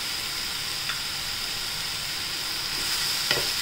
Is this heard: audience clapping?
no